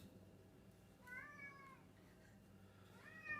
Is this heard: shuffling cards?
no